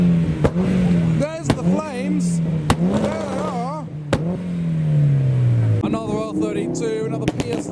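Subaru cars in a dense traffic jam of Japanese performance cars pop and crackle their exhausts, sharp bangs cutting over a loud steady engine drone with revving swells, while someone talks over it.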